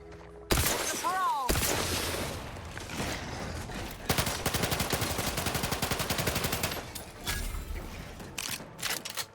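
Rapid gunfire in The Outer Worlds, with loud close single shots giving way to a long sustained automatic burst, then a few scattered trailing shots.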